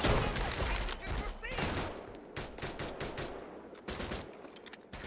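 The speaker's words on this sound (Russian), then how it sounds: "Откуда стреляет?" Gunfire in the World War 2 shooter game Raid: World War 2, dense rapid bursts of rifle and machine-gun shots crackling close and loud, with brief gaps between volleys.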